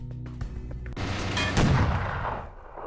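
A heavy gunshot blast from a gun in the video game E.Y.E. Divine Cybermancy booms loudly after a few faint clicks and rolls off into a fading rumble.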